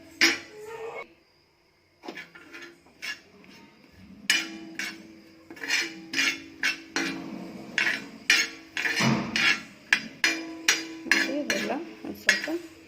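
Chopped dry coconut frying in a pan, with frequent sharp spatula clinks and scrapes against the metal in an uneven rhythm and a faint voice at moments.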